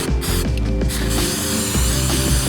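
A ratchet clicks rapidly in close, loud bursts while a bolt is loosened to remove a motorcycle's front sprocket cover, with a few pauses between the runs of clicks.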